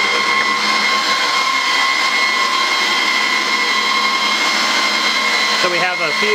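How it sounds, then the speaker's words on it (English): A 2U Asus ESC4000 G2 rack server with Intel Xeon Phi cards installed, fans running at idle, gives a loud steady whirring roar with sustained tonal whines, continuous throughout, with someone talking briefly over it. "at idle they draw enough load to ramp up the fans a bit"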